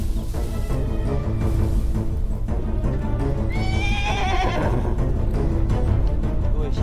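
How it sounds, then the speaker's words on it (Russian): A horse lets out a loud, shrill whinny midway, rising then trailing off, over a low rumble with faint hoof movement. "А, это лошадь."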